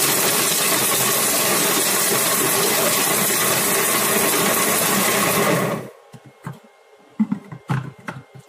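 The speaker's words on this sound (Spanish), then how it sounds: "Los vamos a poner en nuestra mambo. Y los vamos a triturar." A Mambo kitchen robot crushes white chocolate on turbo, a loud steady whirring roar that runs for several seconds before cutting off abruptly, leaving faint clicks and knocks.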